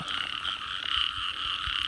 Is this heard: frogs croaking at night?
yes